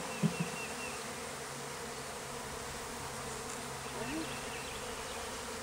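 A package of honeybees fills the air around a hive as a hive top feeder goes on, a steady, dense buzzing hum that holds evenly throughout with a couple of faint knocks near the start.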